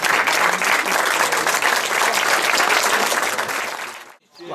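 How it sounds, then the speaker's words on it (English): Wedding guests at a reception give the best man sustained, dense applause, loud and close, that cuts off abruptly near the end into a brief lull. "And now clap the best man."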